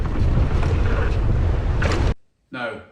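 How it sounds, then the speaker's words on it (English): Strong wind buffeting the microphone of a GoPro camera while mountain biking, a loud continuous roar that cuts off abruptly near the end before a brief burst returns. "God, it's windy."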